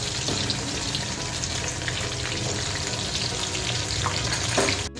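Chicken pieces deep frying in oil over a medium gas flame, steady loud close sizzling throughout with a brief stir near the end.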